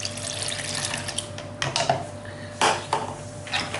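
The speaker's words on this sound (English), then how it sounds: "The next thing is to add the milk." Milk tipped all at once into a cooked roux in a home kitchen, a close splashing pour with a few louder gushes and clinks of the pan, heard alone without talk.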